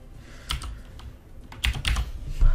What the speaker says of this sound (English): let me type in my keyboard